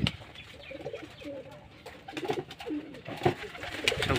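Pigeons coo in low, rolling calls nearby, with faint wing flutters and some soft background voices and noise.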